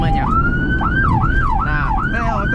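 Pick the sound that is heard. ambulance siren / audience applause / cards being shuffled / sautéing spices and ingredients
ambulance siren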